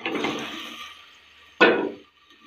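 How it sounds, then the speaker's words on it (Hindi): Water is poured into a cooking pot holding beef for a bara gosht curry. A longer splashing pour fades, then a short, sharp second splash follows, with no talk. "ये पानी ले लेना है डेगची में और ये गोश्त उसके अंदर डाल देना"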